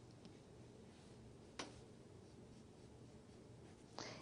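Pen strokes on paper as a precalculus function graph is sketched by hand between vertical asymptotes, quiet continuous scratching with two brief sharper ticks, close and faint.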